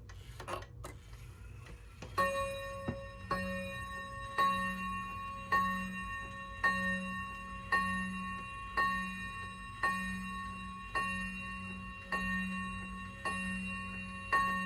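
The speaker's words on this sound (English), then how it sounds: "Now I'll do a little demonstration of the chime." An Aikōsha wall clock, just cleaned and oiled, sounds a steady series of evenly spaced chime strikes, each ringing out clearly and decaying before the next, with a few quick mechanical clicks at the start.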